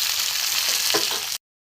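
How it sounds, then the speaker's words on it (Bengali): Raw green banana and potato pieces frying in hot oil in a pan for a thin bata fish curry give a steady, close, hissing sizzle that runs without a break and then cuts off abruptly. "সবজিটা ভাজবো এবারে।"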